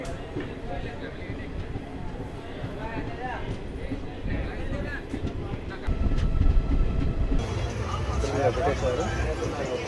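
Inside the Chennai Egmore–CSMT Mumbai Madras Mail superfast express, a steady rumble of the moving coaches carries under the busy chatter of passengers, growing louder partway through.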